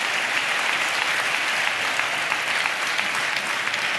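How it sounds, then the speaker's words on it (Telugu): A church congregation claps together in praise of Jesus during a pastor's sermon, a steady, even roar of many hands held for several seconds with no speech over it. "చప్పట్లు కొడితే యేసయ్యకు స్తోత్రాలు చెప్దాం."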